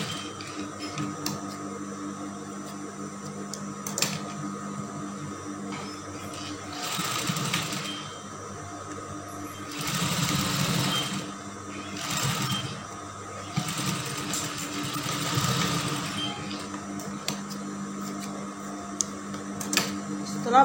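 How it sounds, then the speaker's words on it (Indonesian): A sewing machine stitches a seam on a lace dress with a plain fabric panel, running in several separate bursts of whirring, locking the stitch at the start and end, with a steady hum and small clicks in between. "Jangan lupa dengan awal jahitan dan akhir jahitan, ini jahitannya kita kunci supaya tidak lepas."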